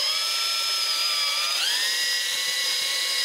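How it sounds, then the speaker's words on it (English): An electric drill spins a polishing tool inside an oiled shotgun barrel, giving a steady high-pitched whine with a slight pitch shift partway through, close and continuous with no talk. "And then I'm just polishing the inside of this barrel."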